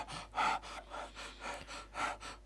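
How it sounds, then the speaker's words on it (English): A looping breathing sound effect played back in FMOD, with about six soft, even inhale and exhale breaths repeating at a steady rhythm, close and fairly quiet. "I have a simple breathing loop here in Fmod"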